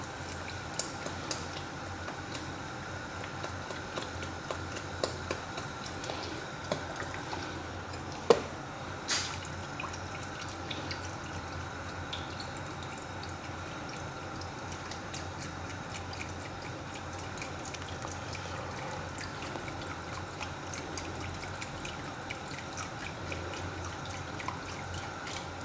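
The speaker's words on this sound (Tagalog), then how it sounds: "Lagyan na natin itong ating milk." Milk from a box poured into a pot of simple Filipino sopas soup, a soft steady trickle and drip of liquid running for a long stretch at low volume, with no talking.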